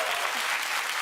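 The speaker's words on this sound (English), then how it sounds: "Now we can clap for that." Studio audience on a daytime talk show bursts into applause, a dense, steady wash of clapping that fills the whole moment at an even level with no voices on top.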